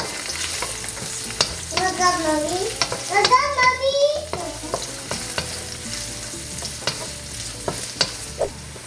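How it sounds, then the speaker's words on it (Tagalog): Onion and ginger are sautéed in a pan, with a steady sizzle and repeated scraping stirs near the mic, while a voice chatters briefly partway through. "Igisa nyo lang maigi"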